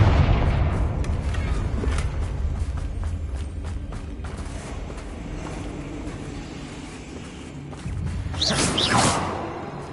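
Confringo blasting spell in Hogwarts Legacy on PS5: rumbling booms and crackling bursts of combat noise, loud at first and easing off, before a sharp whooshing blast near the end.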